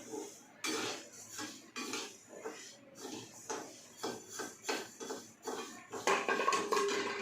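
Dry rice being roasted in a pan and stirred with a metal spoon, giving repeated scraping, rattling strokes in an irregular rhythm, fairly close and moderately loud, with no talking.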